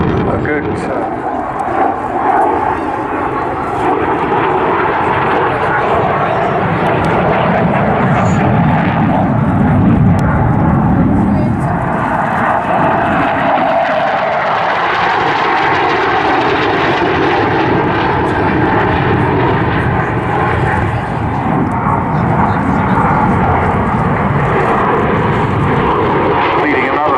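At the 2019 Southport Airshow, a fixed-wing aircraft flies with its undercarriage lowered, its engine a loud, continuous roaring drone that swells and shifts slowly as it passes, with a voice talking over it.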